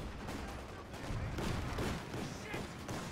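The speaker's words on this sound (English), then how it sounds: "Bombardment on the way." Artillery shells pound the ground in a Company of Heroes 2 skirmish, a continuous dense rumble of blasts and gunfire over about three seconds, loud and close.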